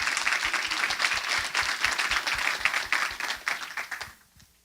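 A conference audience breaks into a brisk round of appreciative applause, many hands clapping close and steady before it quickly tapers off and stops.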